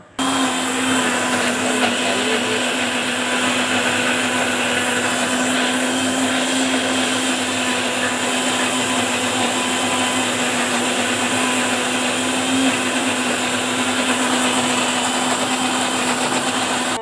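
Mixer grinder running continuously as it grinds spices with a little water under its lid, a loud, steady motor whine and whirring grind that starts abruptly and holds unbroken throughout, with no talking.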